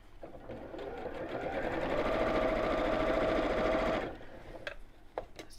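A sewing machine runs at a steady pace, top stitching through outer fabric and lining. The whirring is close and continuous for about four seconds, then stops, and a few faint clicks and handling noises follow.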